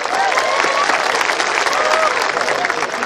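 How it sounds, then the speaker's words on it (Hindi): Audience applause at a Hindi comedy poetry gathering (hasya kavi sammelan) hosted by a city municipal body in Nanded: dense, steady clapping from a large crowd, loud and sustained throughout, with a few whistle-like tones rising above it. "तालियां बजनी चाहिए यार।"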